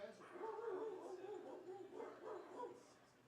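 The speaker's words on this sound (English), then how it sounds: "the dogs have come out and started barking" Dogs barking and yipping in the crowd at McBean Stadium during a Lincoln Potters baseball game, a scattered chorus of overlapping barks with some whimpering, fairly close, mixed with stadium chatter.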